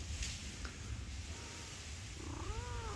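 Kittens on a farm, a litter of three, giving faint high rising mews near the end over low rumbling background noise, with a soft purr-like texture throughout.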